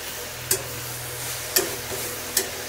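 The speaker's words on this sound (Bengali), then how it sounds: "শাক ভাজা বসিয়ে দিয়েছি, শাক ভাজা হওয়ার পথে" Leafy greens (shak) frying in a pan give a soft, steady sizzle close by, broken three times by sharp clicks from the spatula or pan, with no one talking.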